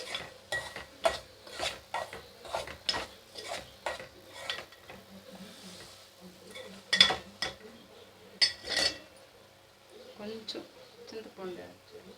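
A spoon scrapes and clinks around a pot of mango dry fish curry in a steady run of sharp strokes, close up, with a soft sizzle underneath and a voice talking over it.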